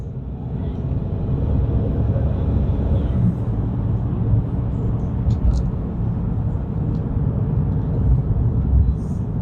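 Chrysler 300M with a 3.5 L V6 24V engine heard from inside while driving, a steady low rumbling drone with road noise, continuous and moderately loud.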